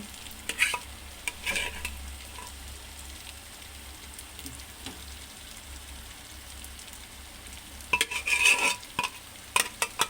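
Dal and whole spices such as cardamom, cinnamon and cloves fry in a pressure cooker for khichuri, making a soft continuous sizzle with occasional louder scraping stirs near the start and end.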